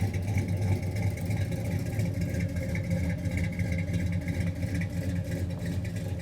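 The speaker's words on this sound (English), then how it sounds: "let's listen to this exhaust note." Square-body Megacab short-bed dually truck idles with a steady, choppy low exhaust rumble, close and continuous, with no talking.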